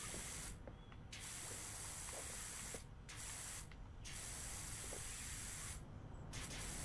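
A pressure washer sprays plastic cleaner in the PowerWash Simulator video game, giving a steady loud hiss in long bursts broken by four brief gaps, with no voices heard.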